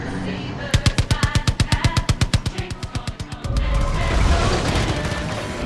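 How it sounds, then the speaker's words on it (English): Rapid machine gun fire from the Widowmaker vehicle in Far Cry 5, a loud, evenly spaced burst of about twenty shots that gives way to a heavy rumbling roar. "It's even equipped with machine guns, so you're really able to kind of go in every location and do what you have to do."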